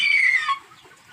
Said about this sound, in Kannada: ಎಲ್ಲ ರೀತಿಯ ನಾಟಿ ಕೋಳಿಗಳು ಇದಾವಪ್ಪ